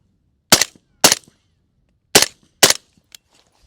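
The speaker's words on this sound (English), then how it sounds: "So I'm going to shoot the 2 close targets" Four sharp, loud rifle shots from a rifle fitted with an LPVO optic, fired outdoors at close targets in two quick pairs with short decays between.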